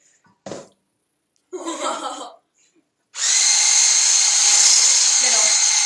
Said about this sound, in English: Let's get whisking.